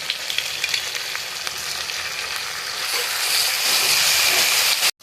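Spiced masala fries in oil for hilsa fish biryani, a dense close sizzle and hiss that grows louder and brighter partway through, then stops abruptly near the end.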